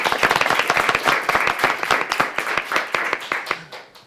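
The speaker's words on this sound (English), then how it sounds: "A round of applause." Applause at a city council meeting honoring an elementary school principal: a small group of nearby hands clapping in distinct, sharp claps, loud at first and thinning out toward the end.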